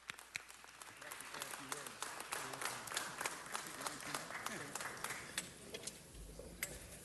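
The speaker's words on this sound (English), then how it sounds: "Give him a round of applause." Scattered applause at a city council meeting, a crowd clapping in uneven bursts at moderate distance, with a voice talking over it.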